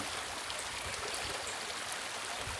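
Spring water flows straight from the ground at a village spot where locals fetch drinking water, a steady broad rush and gurgle without pause, close and even throughout.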